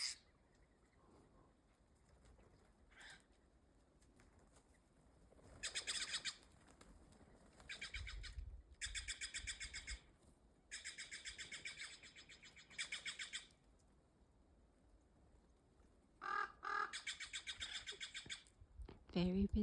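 Birds squawk and chirp in a snowy forest on a busy morning, with short bursts of calls scattered among quieter stretches, fairly close, alongside soft pattering and possible wing flaps.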